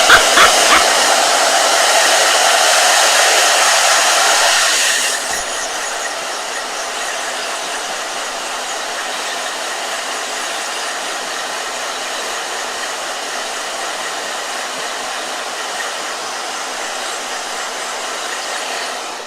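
A hair dryer blows loud and steady at full power for about five seconds, then drops to a lower setting and keeps running evenly, with faint mechanical rattling underneath.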